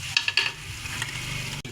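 Chopped garlic, ginger and green chilli are stirred into sizzling onion paste in a pan for kofta curry. A few quick scraping strokes come up close over a steady frying hiss, ending in a sharp knock.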